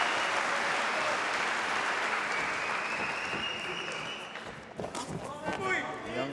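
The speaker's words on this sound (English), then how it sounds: "look at the crowd's response" Roaring crowd at an OKTAGON MMA cage fight cheering and applauding in a loud wash of noise, easing after about four seconds as a commentator's voice comes through over the arena.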